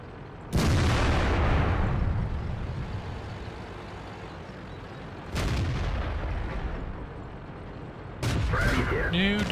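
Heavy tank cannon shots boom in World of Tanks with the KV-220: three loud, separate blasts, each one rolling off into a long decaying rumble, with gameplay noise running between them.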